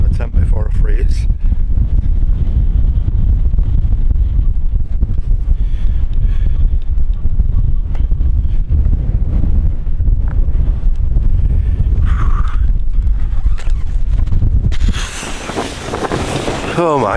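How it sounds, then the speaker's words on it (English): Gale-force wind at a Peak District campsite roars and buffets the microphone loudly and without letup, with heavy low rumbling and brief higher gusts and rustling near the end. "that wind really is brutal"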